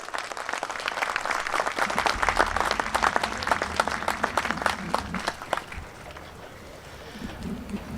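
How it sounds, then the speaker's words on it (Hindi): Audience at a housing society's annual general meeting breaks into sustained applause, dense rapid clapping for about six seconds that then thins out and fades, with faint voices underneath. "आपकी तालियों के गूंज में हमारा और आपका भाई अंसर महमूद गोंदल।"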